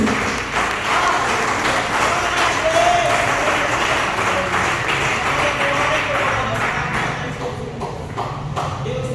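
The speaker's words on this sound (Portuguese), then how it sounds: "entrega uma salva de palmas para Cristo" A church congregation applauds for Christ during a Pentecostal sermon, a steady wash of many hands clapping at full strength throughout, with a faint voice at times beneath it.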